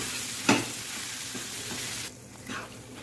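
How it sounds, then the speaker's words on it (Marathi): Steady frying sizzle of khoya in a wok over low heat fills the whole clip, with a brief scrape of stirring near the start and softer stirring later. "हा मस्त आपण फ्राय करून घेऊ कढई खवा"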